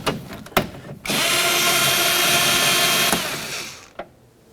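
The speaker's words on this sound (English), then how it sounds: "we can continue on to removing those two 10mm headed bolts that are located inside of each of these holes" Power tool backing out 10mm headed bolts inside a 2003-2007 Honda Accord front door, a short clatter and then a loud sustained whirring buzz of about two seconds that winds down, closed by a single click.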